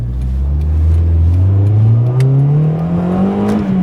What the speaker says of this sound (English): you put your foot down in first gear and the torque is just about enough to get the get the front tires scrabbling for grip